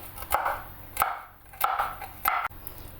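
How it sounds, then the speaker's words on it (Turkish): A knife chopping walnuts coarsely on a board for a zucchini and cucumber salad, four sharp, close chops spaced about half a second apart, with a brief rustle of nut pieces after each. "Cevizimizi iri iri doğruyoruz hafif dişe gelsin"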